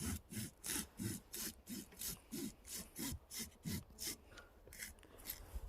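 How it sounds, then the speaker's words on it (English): Hand saw cutting through wood, with steady rhythmic back-and-forth strokes about twice a second, close but fairly quiet and heard alone. "with just a couple of little more saws, that should be it coming down"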